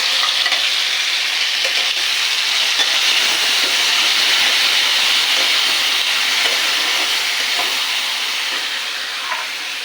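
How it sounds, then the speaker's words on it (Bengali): Potatoes half-fried in a pan sizzle loudly and steadily as raw tomato paste goes in, for a soya chunk curry, a dense crackling hiss with faint stirring and no voices. "আলুটা মাঝামাঝি ভেজে নিয়েছি, এবার দিয়ে দেবো টমেটো বাটা"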